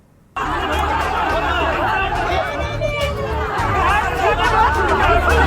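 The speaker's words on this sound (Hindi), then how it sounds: "लोगों की भीड़" A crowd of protesters blocking a road in Samastipur, Bihar, makes a loud, continuous babble of many overlapping voices, with chatter and occasional laughter close by.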